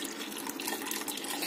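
Water poured into a creamy Afghani malai chicken curry gravy, a short steady splash of liquid close by, running evenly without pause.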